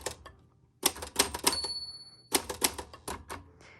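Typing on a 1962 Olympia Splendid 33 manual typewriter: close, crisp rapid key strikes in quick clusters, with a brief bell-like ring partway through and short pauses between bursts.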